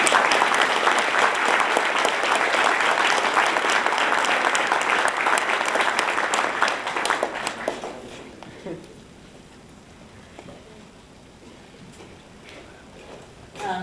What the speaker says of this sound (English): Can we give another round of applause for Dr. Gilholm?